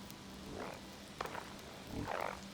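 A mutated, electrified frog creature in Fallout 76 gives two low, gurgling croaks, one brief and one longer, with a couple of sharp clicks in between, set against a quiet ambient hum.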